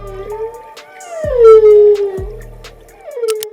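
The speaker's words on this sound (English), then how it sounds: "The humpback whale makes a variety of sounds, including whistles, grunts, and loud calls" A humpback whale's long, loud tonal call rising and sliding in pitch, with mournful howl-like sweeps and a few lower grunting pulses, heard alone.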